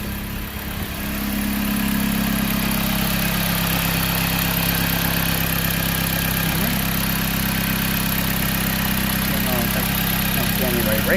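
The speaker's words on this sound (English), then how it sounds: "It's steady idling." A 2009-2015 Dodge Journey engine idles steadily and evenly after a brief quieter start, holding a constant low hum near the listener with no obvious misfire or stumble.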